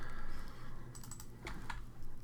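Keys clatter on a computer keyboard while a value is typed into CAD software for a sheet metal handrail design, a quick cluster of soft clicks over a low background hum.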